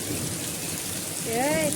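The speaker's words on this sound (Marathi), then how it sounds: "गावाला पाऊस पडला पाडव्याच्या आधी" Rain pours steadily in a village, a dense, constant hiss close by, with a brief whistling or birdlike tone near the end.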